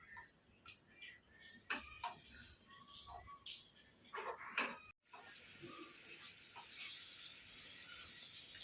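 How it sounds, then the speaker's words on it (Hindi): Eggs, a dozen of them, frying in a pan for a Konkani egg thali: scattered light clicks and taps give way midway to a sudden, steady sizzling hiss that holds to the end. "अभी इसको अंडे को फ्राई करेंगे।"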